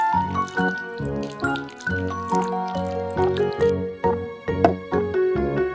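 Minced chicken seasoned with white pepper, pepper and salt squished and kneaded by hand in a bowl, giving repeated wet, sticky squelches in a steady rhythm, close and fairly quiet.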